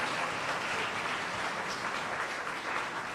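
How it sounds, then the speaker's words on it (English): Applause from the audience at a millennial forum with Democratic congressional candidates, a soft, even spatter of clapping heard at a distance and fairly faint, without talk. "Let's give them a round of applause for their individual answers for that."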